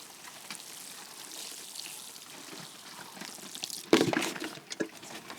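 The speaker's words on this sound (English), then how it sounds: "And now just water them." Soft splashing and trickling water runs steadily as potted onion plantings are watered, with a sharper burst of pouring and dripping near the end; no voices.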